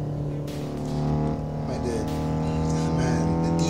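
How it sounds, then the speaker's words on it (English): Honda VTEC engine in the Assetto Corsa racing game on the Nordschleife, a steady high engine drone climbing slightly in pitch as the cam switchover kicks in, loud and continuous with a voice talking over it. "did you hear the VTEC just kicking right there?"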